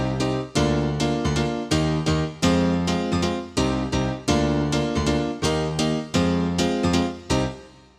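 Preset sounds from a 1988 Korg M1 digital synthesizer workstation: loud, dense layered chords with sharp percussive attacks repeating in a steady rhythm, playing alone without voices.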